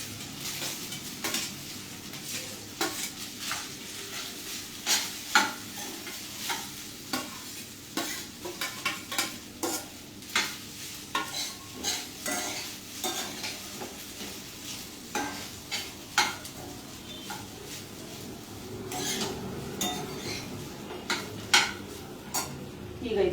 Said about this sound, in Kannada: ಈ ಒಗ್ಗರಣೆಯಲ್ಲಿ ಸೇರಿಸ್ಕೊತಾ ಇದ್ದೀನಿ.